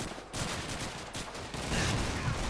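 Dense, continuous gunfire in Call of Duty 2 during a battle for Hill 400, a steady noisy roar of overlapping shots that swells louder in the second half.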